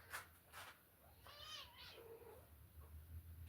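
Kittens and their mother cat in a house squabble at close range, giving a couple of short meows and a drawn-out, wavering cry over a low background hum.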